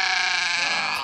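A sheep on a farm lets out a single sustained, wavering bleat, loud and close, with no talk over it.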